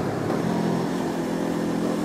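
A Honda CL500 180-degree crank parallel-twin engine pulls steadily in second gear on a mountain pass ride, a dense, even drone heard alone without talk.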